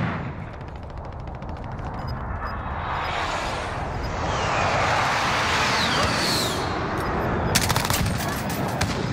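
Unsuppressed automatic gunfire in Call of Duty Warzone, dense rapid bursts rattling continuously through the clip over a loud battlefield din, with a sharp burst near the end.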